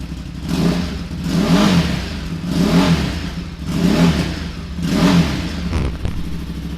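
Repeated throttle blips from a 2017 Ducati Supersport S with a 937cc engine and standard exhaust, idling between five rhythmic revs that rise and fall about a second apart, loud and close, with no voices.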